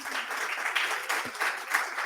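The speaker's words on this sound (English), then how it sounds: "can we give them a hand of applause?" An audience gives a warm hand of applause, many people clapping in a continuous, moderately loud roar that fills the room evenly from start to finish.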